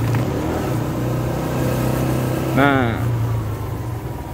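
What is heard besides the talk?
motorbikes and cars passing on the street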